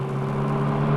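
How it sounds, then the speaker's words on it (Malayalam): A jeep engine hums steadily with a low, even drone, fairly close and alone, with no rise or change over the brief moment. "ദേ ജീപ്പിന്റെ ഒച്ച കേട്ടോ"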